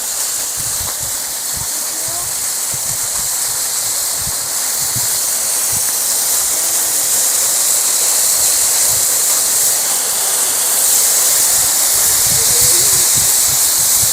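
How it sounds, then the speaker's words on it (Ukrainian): A geyser in Vuchkovo village in the Gorgany mountains, Ukraine, bursting into eruption, a loud continuous hissing, rushing roar of spraying water that swells steadily over the span. "Початок виверження води."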